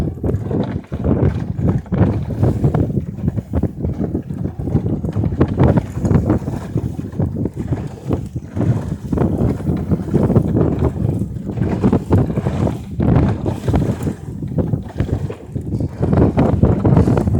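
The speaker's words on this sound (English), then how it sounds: "Looks like the wind's picking up even more." Strong, gusty wind roars continuously across the microphone aboard a small sailboat underway near Gloucester, with water rushing and rig noise beneath, loud and unbroken, without speech.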